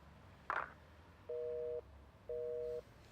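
A telephone busy tone after a call ends: two long, steady dual-pitch beeps separated by a pause, following a brief click, with no talk.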